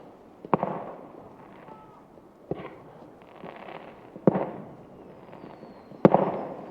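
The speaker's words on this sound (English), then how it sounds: "We've got some firework display going on." Fireworks bang outdoors on the shore at Nells Point, Barry, four sharp cracks spread over several seconds, each trailing off into a rumbling crackle against a steady background hiss.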